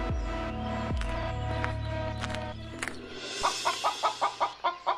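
Cartoon chickens in a Bengali fairy-tale animation cluck in a quick series of short, evenly spaced calls near the end, after a passage of musical score with sustained tones and a couple of plucked accents.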